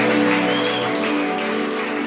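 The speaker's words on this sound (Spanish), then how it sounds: "que se oiga ese aplauso, iglesia, con alegría, con gozo" A church congregation claps joyfully during a service, a full, continuous patter of many hands over sustained instrumental music in the background.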